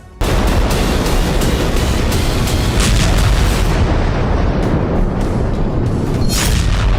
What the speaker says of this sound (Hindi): जहां रूस ने किलर मिसाइलों से ताबड़तोड़ अंदाज में बारूदी प्रहार किए हैं